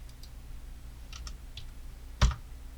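While editing in Premiere, a computer mouse and keyboard give a few light, close clicks and taps, ending with one sharper, louder click in an otherwise quiet room.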